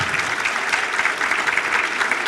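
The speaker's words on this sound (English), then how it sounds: "a round of applause for our presenting sponsor, OLG" A breakfast audience at a women-in-business event gives a steady, dense round of applause for a presenting sponsor, many hands clapping together at an even, full level throughout.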